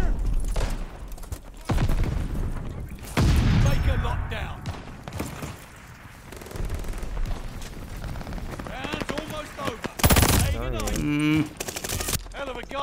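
A Nikita AVT assault rifle in a PS5 shooter fires in loud, punchy bursts separated by short gaps, with other chaotic in-game effects and hits in between.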